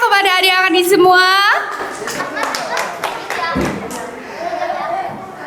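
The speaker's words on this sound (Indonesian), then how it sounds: "Boleh minta tepuk tangannya kepada adik-adik semua?" An audience applauds children after a speech contest at a mosque, a burst of clapping following a voice, fairly loud and near, with talk over it.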